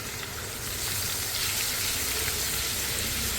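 Tarka tempering for achari chana dal sizzles in hot oil with pickling spices and stuffed chillies. A steady, dense hiss starts slightly quieter, swells within a second, and holds loud and close throughout.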